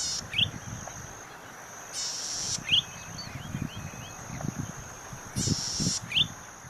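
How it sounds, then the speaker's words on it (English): A golden-headed cisticola gives short, sharp buzzy calls at intervals in an open grassland at Pitt Town Nature Reserve near Sydney, set against a steady chorus of insects and crickets. "First, the golden-headed cisticola."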